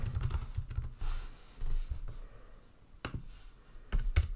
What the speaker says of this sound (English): So I can type something in.